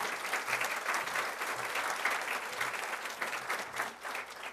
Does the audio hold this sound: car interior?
no